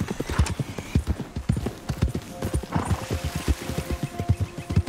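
Horse hooves clip-clop in a steady, brisk rhythm in Red Dead Redemption 2, close and prominent, with a brief whinny near the start and faint game ambience beneath.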